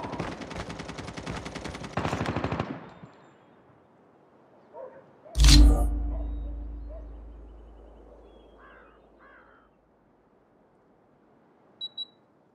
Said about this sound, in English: Hostile sentry gun in your AO.